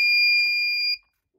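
A Unipos F4000 smoke alarm under test gives a loud, piercing steady electronic tone close by, which holds for about a second and then cuts off abruptly into silence.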